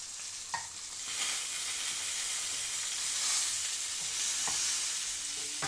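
Hot oil sizzling steadily in a pan as food fries, a close, continuous hiss with a few faint clinks of stirring and no talk.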